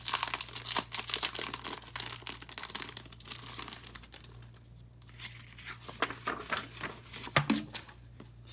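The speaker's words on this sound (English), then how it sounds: "So this is the embossing folder. Go ahead and open it up and show it to you." Plastic packaging around an embossing folder crinkles and tears at close range, with repeated rustling bursts and a few crisp rips over a low steady hum.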